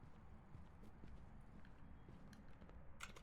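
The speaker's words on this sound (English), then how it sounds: "I can hear its footsteps." Quiet footsteps of a ghost thud in a steady plodding rhythm in a ghost-hunting video game, faint and low under a dull background hum.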